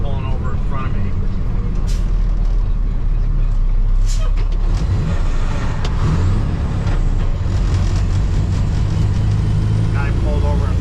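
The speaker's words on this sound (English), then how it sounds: "I got a truck pulling over in front of me." A large truck, likely an old Peterbilt dump truck, pulls over just ahead on the road, its engine rumbling loudly and continuously under steady road noise, with hissing air-brake bursts.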